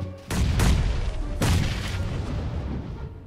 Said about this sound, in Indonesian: Ini juga bom, Bang.